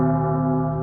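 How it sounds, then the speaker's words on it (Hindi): A single sustained bell tone rings with rich, steady overtones, held and slowly fading over a brief moment. "पीछे से एक घंटी की आवाज़ सुनाई दी।"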